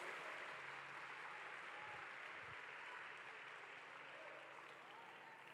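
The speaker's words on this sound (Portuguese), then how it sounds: "Aplauda o Senhor." Steady applause fills a large arena during a youth-organized church worship service, a broad dense wash of clapping that holds at an even level throughout, with a faint voice briefly audible beneath it.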